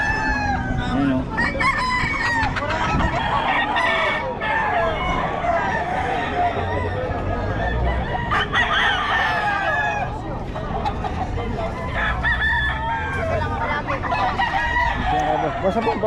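Several roosters from Nueva Ecija crowing and clucking at a fowl market, loud and continuous, overlapping one another with crowd chatter and people talking throughout.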